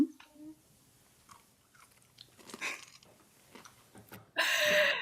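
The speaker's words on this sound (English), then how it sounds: "as you hear the sounds of crunching around the world" Matzah crunched and chewed after the blessing over bread at a Passover Shabbat service, several soft scattered crunches and bites, close and fairly quiet, ending in a burst of louder noise.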